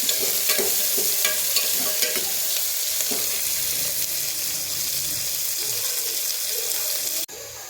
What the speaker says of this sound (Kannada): ಎರಡು ನಿಮಿಷಗಳ ಕಾಲ ಫ್ರೈ ಮಾಡಬೇಕು